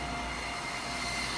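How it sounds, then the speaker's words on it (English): Air trapped in the water lines of a running test bench, a steady broadband rushing hiss and rumble, continuous and fairly faint with no talking. "That noise is the air in the lines."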